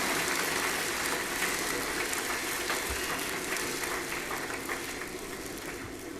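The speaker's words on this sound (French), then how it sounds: "Est-ce qu'on peut l'encourager par les applaudissements, s'il vous plaît?" Steady applause from an audience at a company's 20th anniversary celebration, a dense continuous patter of many hands that runs the full length and eases slightly toward the end.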